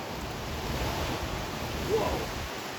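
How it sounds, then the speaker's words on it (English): Strong wind roars during a severe thunderstorm as a steady, fairly faint broadband rush with a slight swell near the end. "Wind's picking up again."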